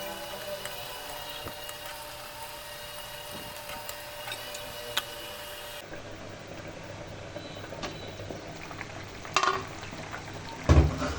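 Boal fish curry with fried potatoes and cumin powder being stirred in a pot, a continuous bubbling, ticking simmer with soft scraping, then a few louder clanks of the spoon against the pot near the end.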